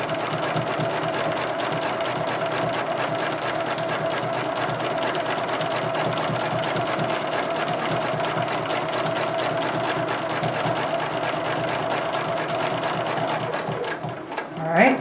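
A sewing machine stitching a diamond grid quilting design, running in a fast steady continuous whir, close and loud, stopping near the end.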